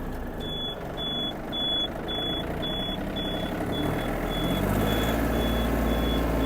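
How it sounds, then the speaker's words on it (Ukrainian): A regular series of high reversing beeps sounds over a steady engine rumble, the engine note deepening partway through as the beeping continues. "При включенні задньої передачі чуємо сигнал, щоб повідомити всіх навколо, що ми здаємо назад"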